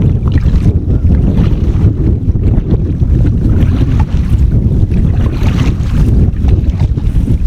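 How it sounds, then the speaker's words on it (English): Strong, steady wind buffets the microphone throughout while canoeing on the River Slea, a loud continuous low roar with gusty swells and no speech. "The wind's picking up again now when you get around the bends."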